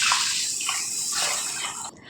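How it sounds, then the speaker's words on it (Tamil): Water pouring steadily onto washed rice and fenugreek seeds in a container, a brief continuous splashing gush that stops abruptly. "வெந்தயத்தை சேர்த்து கொடுத்துட்டு அரிசி முங்குற அளவுக்கு தண்ணி சேர்த்துக்கோங்க"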